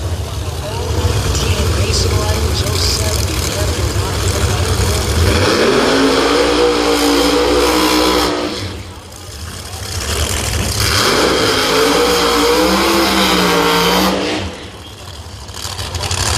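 Pro Mod drag race cars, including a Chevy Camaro, roar loud and sustained at a 2025 Thunder Valley Nationals event, with engines rising and falling in pitch as they pass, while a commentator talks over the noise.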